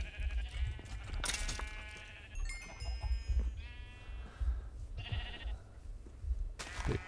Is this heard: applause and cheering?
no